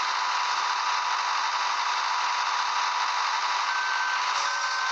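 A combine harvester unloading in Farming Simulator 14 gives off a steady, unbroken mechanical hum and whir, loud and close, with a thin tonal beep appearing near the end.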